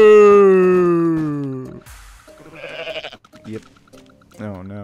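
A goat in the video game Goat Simulator lets out a loud, long, wavering bleat up close, followed by shorter game sounds and a brief second bleat.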